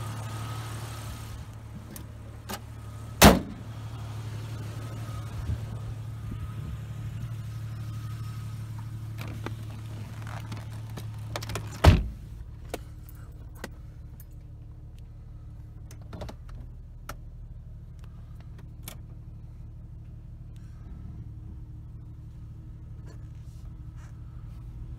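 A 1997 Jeep Cherokee XJ heard from inside as it drives, with a steady low engine and road drone throughout and two sharp clunks or knocks standing out above the hum.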